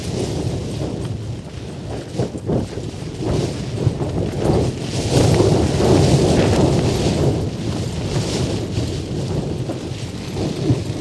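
Storm Eunice winds batter a Hilleberg Nammatj 3GT tent pitched low while wild camping; a continuous loud roar of gusting wind and flapping fabric buffets steadily throughout, with no talk.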